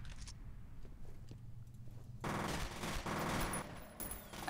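Rapid automatic gunfire in the video game F.E.A.R., a quieter stretch giving way to a loud, dense burst of shots that runs to the end.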